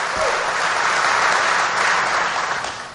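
Loud, steady clapping from a political rally crowd greets a missile defense promise, filling the whole span before easing slightly at the end.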